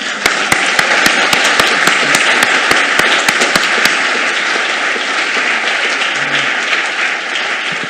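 Audience applause closing a session at a scientific symposium, a loud, dense, sustained wash of many hands clapping with a few sharper nearby claps standing out early on.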